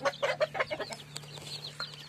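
Desi-breed chickens clucking in a quick, uneven series of short calls, fairly close, with a steady low hum underneath and a few higher chirps later.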